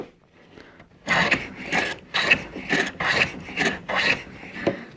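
Restored vintage hand plane with new handles and a sharp blade taking shavings off wood, heard as a series of about seven rhythmic rasping strokes, close and fairly loud, after a quiet second at the start.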